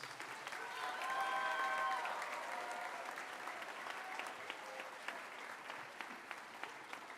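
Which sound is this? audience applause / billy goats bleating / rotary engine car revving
audience applause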